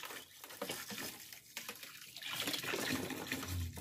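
Water runs from a tap into a container being filled with about ten liters for homemade bleach, a soft, steady splashing that grows fuller and louder toward the end.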